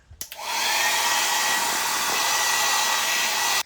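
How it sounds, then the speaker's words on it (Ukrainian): A small handheld hair dryer in a hotel room in Side, Turkey, clicks on and blows with a loud, steady whooshing hiss, running continuously close up before cutting off. "а також є ось такий фенчик"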